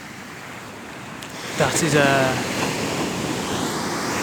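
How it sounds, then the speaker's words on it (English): Ocean surf rolls onto the shore beside an outdoor gym, a steady wash broken by one louder incoming wave midway, with wind buffeting the microphone and a voice speaking briefly. "but listen to the waves coming in and out"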